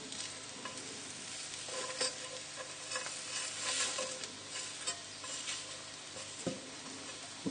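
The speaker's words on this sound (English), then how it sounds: "just using the side of the pan, just crush them lightly" Soft cooked ingredients for a fish cassoulet are crushed with the side of a pan, giving irregular scraping and stirring sounds over a constant sizzle, close and without speech.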